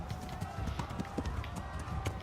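Horse hooves galloping in the medieval video game Kingdom Come Deliverance, a quiet, rapid run of repeated thuds heard beneath faint game background sound.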